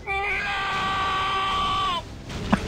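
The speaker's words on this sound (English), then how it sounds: "That scream, bro." A loud, sustained scream with strong harmonics from Freelancer, a space combat game, lasting about two seconds before cutting off, followed by a few brief sharp clatters.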